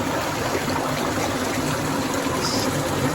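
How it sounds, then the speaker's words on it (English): Water flows and trickles steadily through a channel, a continuous nearby rushing with no speech. "Sound of the water, the water coming through canal here."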